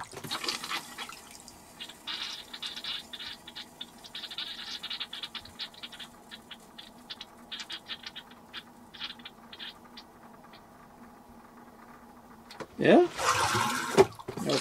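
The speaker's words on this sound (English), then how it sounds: "So there you go, pretty good flow through the RV faucets." An RV faucet runs water through a compact Blu Tech R3 Elite filter system, a thin steady stream with splashy patter for most of the stretch, then a louder gush near the end, with a brief spoken word.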